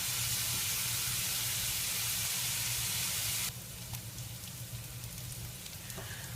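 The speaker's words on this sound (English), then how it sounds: "We're going to cook the onions until they're soft and brown." Onions fry in a pan with a broad, steady hiss of sizzling fat, loud at first and then dropping abruptly to a quieter, softer sizzle, with no voices.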